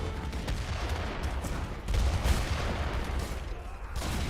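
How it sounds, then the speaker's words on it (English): Portuguese mortars fire in a real-time strategy battle, heard as a dense, continuous crackle of massed gunfire with a heavier thump of cannon around the middle, steady and fairly loud throughout. "again, the annoying Portuguese mortars are back"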